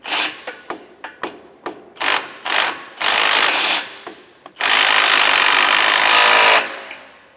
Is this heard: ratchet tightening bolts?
yes